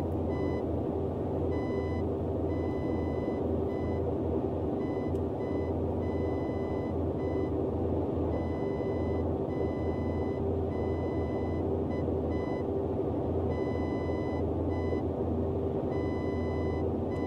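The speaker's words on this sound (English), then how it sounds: "This is basically the code for the station" Repeating beeps of a radio station identifier code heard in the cockpit of a Boeing 247D in a flight simulator game, a steady pulsed tone pattern over constant engine drone.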